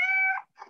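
A single drawn-out cat meow, clear and close, falls away and is followed by a short, softer second call, with no voices.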